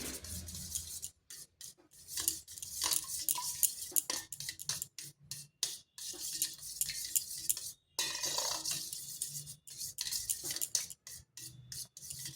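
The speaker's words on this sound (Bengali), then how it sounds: "এরপর ভালোভাবে ফেটিয়ে নিচ্ছি।" Eggs with salt and chili powder whisked by hand in a bowl: brisk, close scraping strokes in quick bursts, broken by short pauses, with no voices.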